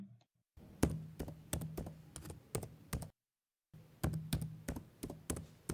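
Quick, quiet keystrokes on a computer keyboard type out a name in two short bursts separated by a brief pause, each key press a crisp tap close by; no talking.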